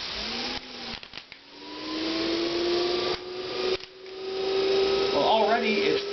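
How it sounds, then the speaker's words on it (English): A newly replaced brushed electric motor, just plugged in, runs with a steady whine that climbs in pitch and loudness, with a brief dip and restart midway and a few clicks near the end. "this will be kind of a baseline of how the motor sounds when it's first plugged in"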